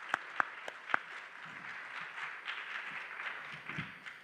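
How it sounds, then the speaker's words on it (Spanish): Applause from a seated audience at a panel discussion in Buenos Aires for guest Ricardo Haye: a few sharp claps up front, then a steady, fairly faint wash of clapping spread across the room. "Pues también un gran aplauso,"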